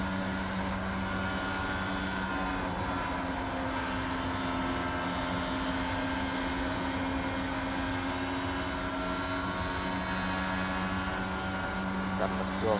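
IndyCar engines in a video-game oval race at Homestead, a steady, dense drone of several cars running continuously at high revs, with no change in level throughout.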